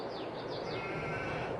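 Sheep bleat on a farm, a few wavering calls close by over constant outdoor background noise.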